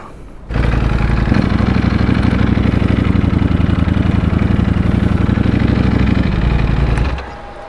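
A motorcycle engine revs hard with the throttle in sports mode, holding a loud, steady, buzzing roar for several seconds after a sharp rise, then dropping back to idle.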